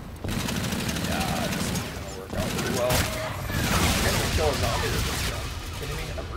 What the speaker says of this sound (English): Well, I can't kill a zombie with this gun.